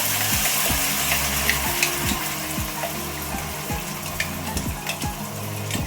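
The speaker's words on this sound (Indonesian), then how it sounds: "untuk minyaknya udah panas, kita masukin bumbu halusnya" Ground spice paste for sambal lado tanak sizzles and fries steadily in hot oil, a dense continuous crackle with occasional clinks of a utensil stirring, close and fairly loud with no talking.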